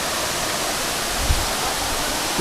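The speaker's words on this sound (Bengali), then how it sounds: "তো ফাইনালি আমরা পৌঁছে গেছি সীতাকুণ্ড ওয়াটারফলসে" The Sitakunda waterfall gives off a steady, loud roar of rushing water that fills the whole short stretch evenly, with no talking.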